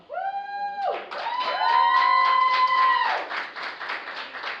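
A cheering party in an audience applauds and cheers at a competition between Jamaica's Ministry of Tourism and the National Environment and Planning Agency, with sustained clapping under loud, wavering shouts and whoops.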